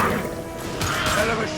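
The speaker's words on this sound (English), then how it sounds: "Firing a high-impact shot!" A high-impact shot fires in Mass Effect 2, landing as a sharp crashing blast over dense battle noise, with a voice talking underneath.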